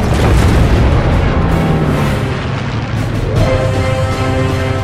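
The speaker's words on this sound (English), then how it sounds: "High explosive rounds punish the MiG." High-explosive cannon rounds strike a MiG jet in Vietnam-era air combat, a continuous loud rumbling roar of blasts with no clear gaps between impacts.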